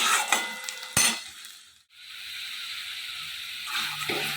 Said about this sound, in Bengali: এই যে মশলাটা কষিয়ে নিচ্ছি, তেল ছেড়ে আসলে